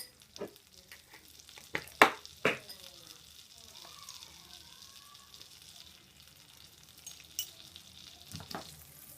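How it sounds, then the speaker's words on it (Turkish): Butter melting in a pan with ground chili pepper added, heard as a faint, steady sizzle with a few sharp clatters of utensils, and someone speaking softly over it. "Tereyağımız eriyor. Biz de içerisine biraz toz biber ilave edelim."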